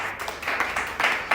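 A church congregation claps in praise, a quick run of sharp, close hand claps with uneven rhythm, with no talking.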